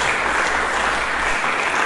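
Church congregation applauding together, a dense steady wash of clapping that fills the space without letup and no voices rising above it.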